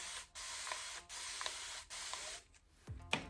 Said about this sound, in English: And again, I spray my hair with